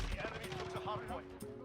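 Rapid automatic gunfire in a Call of Duty multiplayer match, bursts crackling through steady game noise with a voice speaking over the shots.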